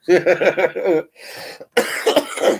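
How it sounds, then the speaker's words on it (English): A person coughs repeatedly in quick harsh bursts, a series of rough throaty coughs close to the microphone with short pauses between. "He's coughing too much."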